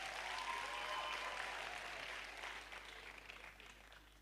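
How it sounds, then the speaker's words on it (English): Audience at a pharmacy graduates' induction ceremony applauding their teachers, dense clapping from the hall that is faint overall and gradually fades toward the end. "Can you clap better for them?"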